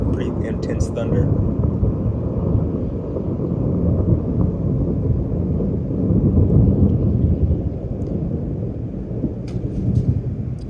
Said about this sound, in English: It was a pretty intense thunder.